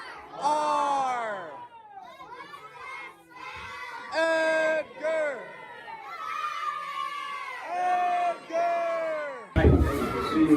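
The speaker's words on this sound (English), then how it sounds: "Great job cheering." Students cheer for their high school football team at a playoff game, a crowd of young voices shouting in repeated loud bursts with short pauses between, rising to a final noisy outburst.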